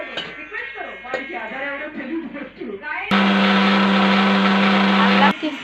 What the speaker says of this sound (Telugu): మసాలా మిక్సీ వేసుకోవాలి.